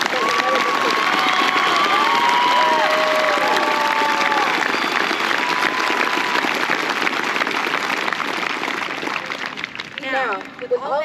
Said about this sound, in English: I would like for everyone to please give a round of applause for G.R.A. Brown